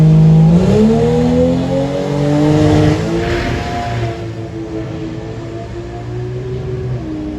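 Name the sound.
drag racing car accelerating down the strip at Santa Pod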